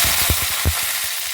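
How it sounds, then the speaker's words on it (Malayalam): Dried red chillies and curry leaves fry in hot oil for a mango curry, sharp crackling pops and spits in a few quick bursts over a faint steady sizzle, close by. "കുറച്ച് കറിവേപ്പിലയും കൂടി ഇട്ട് കൊടുത്ത് ഇതെല്ലാം മൂത്ത് വരുമ്പോഴത്തേക്ക്"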